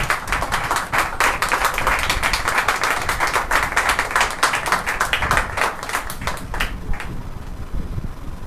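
A church congregation at a Sunday service applauds the preacher. The loud, dense clapping is steady for about seven seconds, then thins out and fades.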